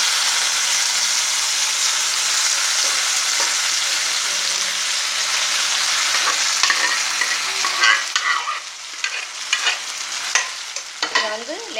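Greens poured into a hot pan of tempering with curry leaves, giving a loud, steady frying hiss that breaks into bursts of bubbling and spattering toward the end, close up with no voices.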